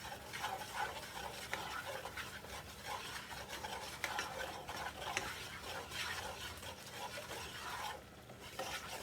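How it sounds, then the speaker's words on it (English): Flour is stirred into hot grease in a pan for venison mushroom gravy, giving a continuous soft scraping and rasping with a faint sizzle underneath, close and quiet, without any talk. "Just gonna put that flour into that grease."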